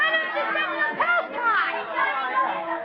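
Crowd chatter in a Sherlock Holmes radio drama, a busy murmur of many overlapping voices close around, steady throughout with a few louder exclamations rising above the babble.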